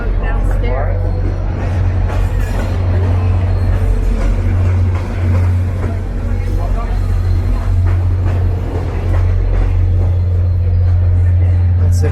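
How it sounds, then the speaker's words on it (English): A Via Rail passenger train rumbles past close by in downtown Toronto, with a loud, steady low drone of engine and wheels that continues without a break. "It's a Via Rail train."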